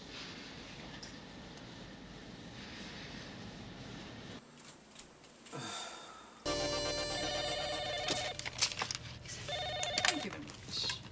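A telephone rings repeatedly in a dramatic movie scene at a bookstore, its trilling electronic tone pulsing in bursts over background film sound, with a brief quieter cut partway through before the ringing returns louder.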